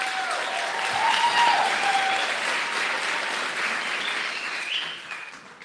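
A church congregation applauds together in a sustained, dense burst of clapping that swells early and then slowly fades, loud and full like a crowd in a large room.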